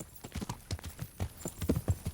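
Horse hooves clip-clop in a steady, loud walking rhythm while riding in the medieval game Kingdom Come: Deliverance, continuous throughout with no talk.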